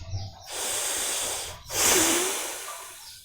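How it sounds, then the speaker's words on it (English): Forceful Bhastrika pranayama breathing: two loud, close, rushing breaths, an inhale and an exhale with a snorting, hissing quality, each lasting over a second. "Now inhale and exhale"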